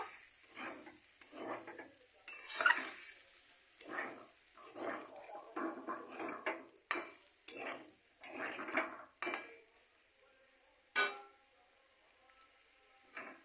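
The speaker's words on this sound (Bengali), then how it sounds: "দিয়ে আমি একটু ভালো করে সবগুলো একসঙ্গে মিশিয়ে নেব" A spatula stirs a sizzling vegetarian curry of cauliflower, potato and paneer in a pan, with repeated scraping strokes and clinks in an irregular rhythm over a soft background hiss, close by.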